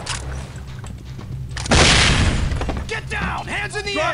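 A sudden loud burst of a flashbang blast in the video game SWAT 4 cuts through background game noise, followed by ringing debris and muffled voices afterward.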